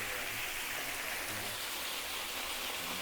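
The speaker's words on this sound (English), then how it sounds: "I'm behind the waterfall now." Waterfall at Yinhe Cave in Taipei, heard from behind the falling water as a steady, dense hiss of rushing water, broad and unbroken throughout.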